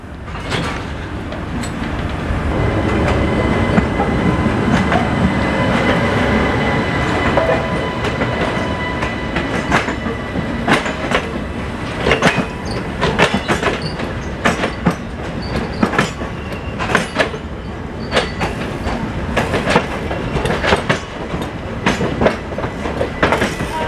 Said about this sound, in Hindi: सामने से कोई ट्रेन आ रही है, कौन सी है वो तो नहीं पता